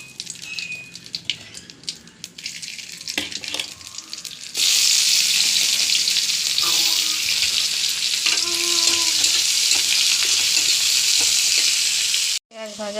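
Nigella seeds tempering in hot oil followed by onions frying, first quieter clinks and light crackle, then a loud sudden steady sizzle as ingredients hit the oil, with stirring scrapes over it, close up.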